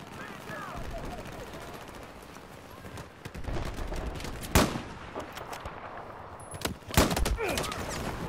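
Gunfire in a video game battle, with scattered sharp shots and two loud bursts near the middle and end over a busy background of game noise; a hostile machine gun is somewhere to the south.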